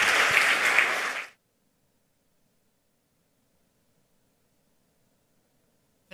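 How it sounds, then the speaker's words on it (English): Applause from a conference audience for a hacktivism talk, a dense burst of clapping that cuts off abruptly after about a second, followed by near silence. "Please give a warm round of applause for Kai"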